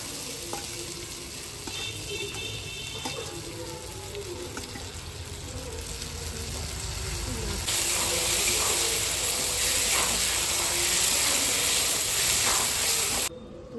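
Potatoes dropped into hot spiced oil in a pan while cooking a Ganga river fish curry hit with a sudden louder sizzle that then holds as a continuous close frying hiss with stirring and no talk.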